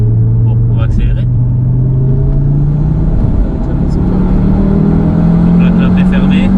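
An Audi RS3 with its five-cylinder engine accelerating from inside the car: a loud steady drone whose pitch climbs gradually, with a brief dip mid-pull, while people talk over it.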